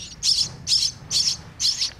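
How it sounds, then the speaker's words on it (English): Baby birds in a nest hidden inside a small hole squawk in four quick, shrill bursts at an even rhythm, close by, with a low rumble of background noise between calls. "Inside that little hole are a bunch of baby birds, and every time they hear us come in,"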